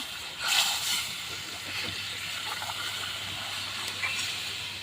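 Water is poured into a pot of cooked cowpea curry, a faint splash followed by a quiet, continuous rushing hiss.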